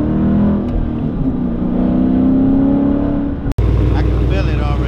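A Dodge Challenger's engine roars loud and close, a sustained revving drone that rises and holds, then cuts briefly before a steady, rougher idle continues.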